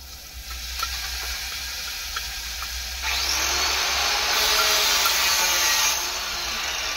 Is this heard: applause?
no